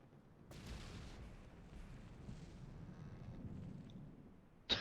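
Faint, distant torpedo explosions in From the Depths rumble low and continuous as a ship is struck, with a sharper burst at the very end.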